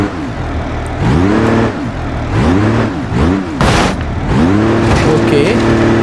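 A car engine in BeamNG.drive revs up and down in several rising and falling swells, loud and close, as the car faces a spinning roller; someone talks excitedly over it.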